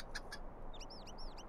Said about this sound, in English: not sure what has gotten into my dad's chickens